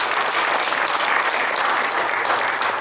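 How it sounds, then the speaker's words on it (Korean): Church congregation at a Presbyterian general assembly meeting in Gwangju bursts into steady, dense applause, many hands clapping together evenly and fairly close for a few seconds. "우리 열심도의 박수 한번 해주시면 감사하겠습니다."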